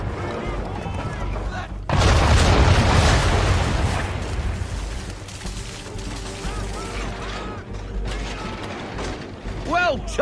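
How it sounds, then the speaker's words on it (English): A ship's broadside of cannons firing round shot in Assassin's Creed 3, a sudden loud booming blast with rumbling decay, surrounded by creaking rigging, mechanical clatter and a voice talking nearby. "when all guns are on target, call fire. Round shot for a start!"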